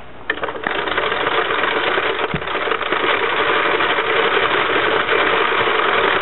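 A hand-cranked circular knitting machine being turned steadily, giving a continuous even mechanical whirring and clatter that stays loud and close from start to finish, with no voices.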